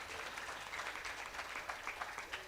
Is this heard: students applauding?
yes